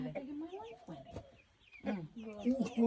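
Brahma chickens cluck and murmur nearby while being let out in an Uzbek village yard, a run of short clucking calls with a brief lull midway.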